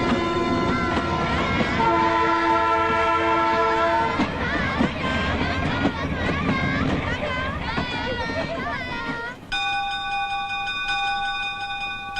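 A train rolling along a railway track in a comedy scene, its rumble mixed under music and voices, with sustained horn-like tones rising clearly toward the end.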